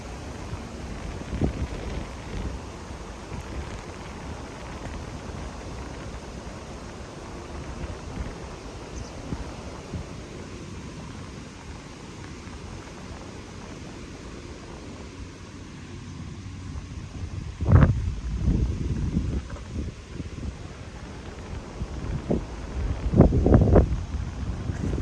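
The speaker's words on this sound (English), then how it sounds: "quite sure that you can still hear the wind noise very clearly" Wind buffets a microphone outdoors in a steady low rumble, with louder gusts and bumps near the end.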